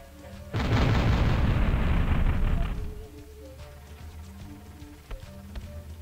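Mines explode in the game Sheep Dog n Wolf, a loud rumbling blast that holds for about two seconds and then fades into quiet background.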